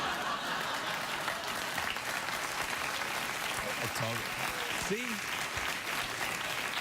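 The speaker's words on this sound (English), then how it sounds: "thanks for that round of applause" A late-night TV studio audience claps in a dense, steady wash of applause that carries through the whole stretch, with a voice speaking briefly over it.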